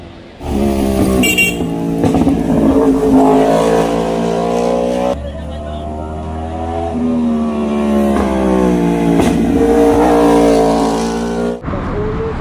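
Several motorcycles rev and pass close by on a Saturday ride up a mountain road, engines rising and falling in pitch continuously and loudly, one fading out briefly before another surges in.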